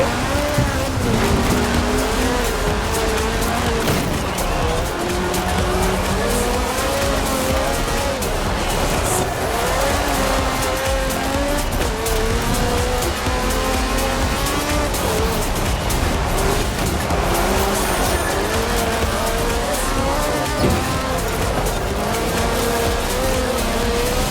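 A race car in Forza Horizon 4 roars continuously with the engine pitch climbing and dropping through gear changes, with occasional tire squeal mixed into the loud, steady driving noise.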